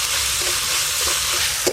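Chopped tomato added to ginger, garlic and onion already fried in a pan, sizzling steadily and loudly with stirring scrapes, close up, with no talk.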